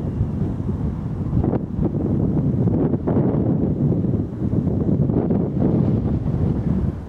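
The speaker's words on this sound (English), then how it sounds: "As expected, it's quite windy up here" Steady, loud wind buffeting the microphone outdoors on a hilltop near West Firle and Lewes, a continuous low rumble with gusty swells and no voices.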